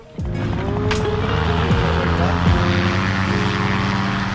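Paramotor engines roar loudly and continuously as several powered gliders run at a Bore Chasers 2022 paramotor event, their droning propeller tones overlapping and shifting in pitch.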